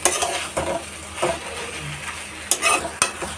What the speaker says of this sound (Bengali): কুদরির আলুটা একটু ভাজা ভাজা হয়ে গেছে, মানে হালকা নাড়াচাড়া করে নিয়ে আর এই মাছের তেলটা দিয়ে দিয়েছি।